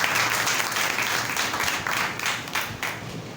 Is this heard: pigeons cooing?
no